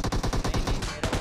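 Rapid automatic gunfire in PUBG Mobile, a dense loud burst of evenly spaced shots that keeps firing for the whole moment with hardly any gap, close and dominant with no talk over it.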